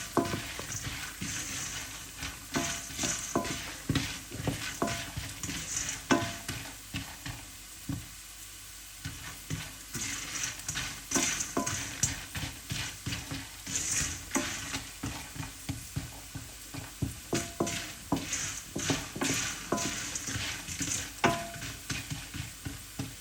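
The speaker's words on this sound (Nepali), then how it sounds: "अब यहाँ यो हामीले यो गुडलाई चाहिँ यहाँनिर फ्राई गर्नुपर्ने हुन्छ" Jaggery fries in hot ghee while being stirred for Nepali sutkeri masala, giving a continuous close sizzle broken by repeated scraping stirs throughout, with no talking.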